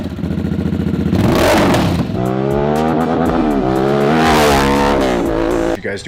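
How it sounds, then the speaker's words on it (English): A Harley-Davidson Sportster S fitted with a full header-back Blockhead exhaust revs hard up close, its engine note climbing and falling in two loud, throaty sweeps. "we do have a Blockhead exhaust currently installed on the Sportster S"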